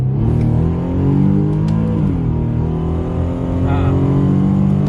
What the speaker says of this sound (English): Full throttle, but it's not fast, and this is an HR motor, so it should feel pretty quick.